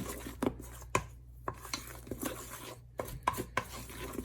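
Whipped body butter is mixed in a bowl, giving a quiet series of irregular soft taps and scrapes of a utensil against the bowl, close and sparse, with no talking.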